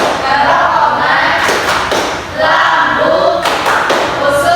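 A school class claps along to a digestive-organs clap chant in a classroom, with loud, close, rhythmic bursts of clapping mixed with chanting voices.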